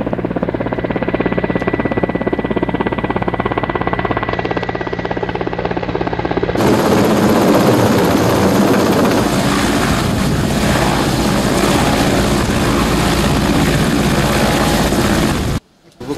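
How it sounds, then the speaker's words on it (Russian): A Rostov region air ambulance helicopter arrives at a helipad in Russia, its loud, close rotor and engine roar holding steady, then swelling harsher and broader partway through before cutting off abruptly. "куда с минуты на минуту прилетит вертолет экстренной помощи"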